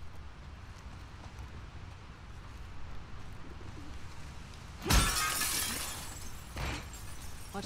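A sudden burst of breaking glass in The Last of Us Part II, a loud crash of shards followed by a trailing tinkle and a second smaller smash, over a quiet ambient game background.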